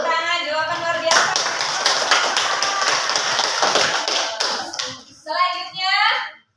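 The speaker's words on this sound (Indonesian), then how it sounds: "Tepuk tangan" Children clap together in a classroom, a dense burst of rhythmic hand claps lasting several seconds, with a voice speaking before and after the clapping.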